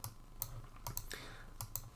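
Quiet typing on a computer keyboard, a short burst of a few scattered key clicks at an uneven rhythm over a faint background hum.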